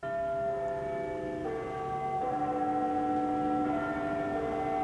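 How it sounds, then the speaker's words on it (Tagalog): Sustained ringing of a Catholic church bell in a city, its tones lingering and overlapping in a steady, resonant drone with a low background hum. "Samtang kining naglanog nga tingog sa kampana sa simbahang Katoliko sa siyudad Sinaga"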